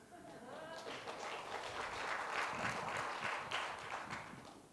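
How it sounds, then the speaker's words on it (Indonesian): A congregation at a Sunday worship service at GBI Muara Karang church claps for several seconds in steady, fairly soft applause with a faint voice mixed in. "Tepuk tangannya kurang kencang."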